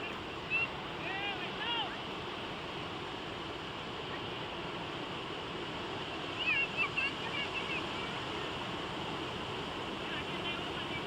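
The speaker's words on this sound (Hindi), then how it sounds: "इन लहरों की आवाज किसी संगीत से कम नहीं है" Ocean waves at sunset on a beach in Ratnagiri, Maharashtra: a steady, continuous wash of surf with wind noise, rolling on without pause and swelling slightly at moments.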